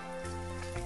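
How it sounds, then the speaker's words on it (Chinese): Pork belly slices searing in a hot dry pan over medium-low heat, a steady close sizzle and crackle of rendering fat running throughout, slightly louder near the end. "倒入五花肉，把五花肉先煎一下，煎出部分油脂"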